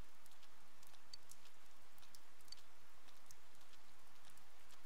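Steady rain in Persona 4 Golden, a soft continuous patter with scattered drops, fairly faint and without voices.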